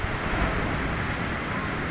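Rough sea under bad weather, with strong waves churning in a continuous, dense roar of surf and wind-like hiss that stays steady and loud throughout.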